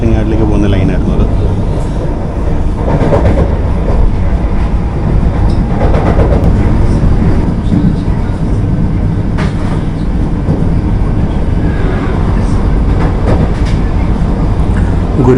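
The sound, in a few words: Guruvayur Madurai Express train passing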